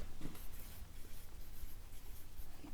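Chalk or marker scratches steadily across a classroom board in short, continuous strokes. The sound is fairly faint and has no talk over it.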